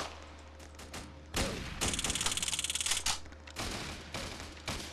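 Gunfire in Roblox during a prison riot: a rapid, even stream of sharp shots in the middle, with scattered thumps and shots around it and no talking.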